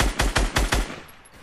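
Gunfire in the Fortnite battle royale, a rapid burst of five loud, close shots evenly spaced, each with a booming low end, then a fading tail.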